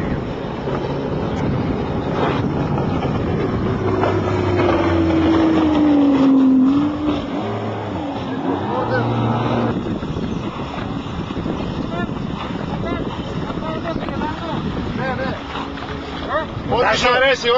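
RIB racing boats at a sea race off Makrygialos pass by with a loud engine drone that rises and sweeps in pitch, heavy wind buffeting the microphone and people talking nearby.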